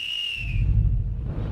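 A single clear whistled note, high and steady, fading after about half a second into low rumbling noise.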